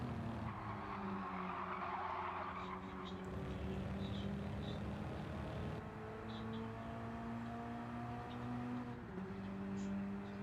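Development-series race cars drive down the start-finish straight, their engines whining and shifting pitch as they pass, heard at a moderate distance with no talk over them.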